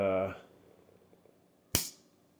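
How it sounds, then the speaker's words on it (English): A flexible gooseneck snaps with a single sharp crack while a Thermalright Peerless Assassin 120 SE CPU cooler is fitted to an A520i AM4 motherboard. It is loud and abrupt after a quiet stretch, following a brief tone at the start. "I think we might have broke our flexible gooseneck"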